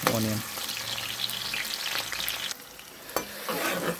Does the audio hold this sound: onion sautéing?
yes